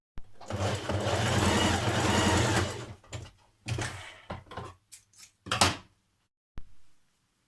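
A sewing machine stitches a dress seam, right sides together, in one close, loud run of nearly three seconds, then several short stop-start bursts and a final brief whirr.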